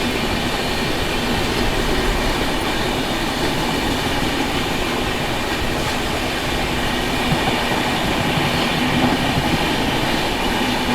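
Mumbai Rajdhani Express running at speed on the tracks, pacing and overtaking a Humsafar Express on a parallel line, giving a steady, loud rumble and rattle of wheels and coaches that carries unbroken for the whole stretch.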